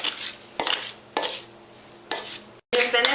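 A fork and knife cutting shortening into flour in a bowl: repeated scraping strokes of metal against the dish, four bursts in an irregular rhythm with short pauses, close and clear.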